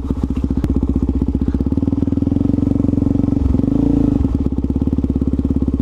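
Supermoto motorcycle engine running close by: a loud, steady, rapid thumping with a brief dip and rev partway through, no talking.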